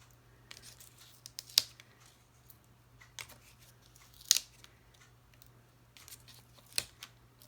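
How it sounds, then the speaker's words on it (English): Scissors trim a sheet of stamped watercolor card in a quiet room, making a few faint, separate snips with soft paper rustles between them and a low steady hum underneath. "Okay, let's trim it."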